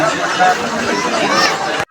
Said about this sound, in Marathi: हे बघू शकतात की पुढं फार जत्रा भरली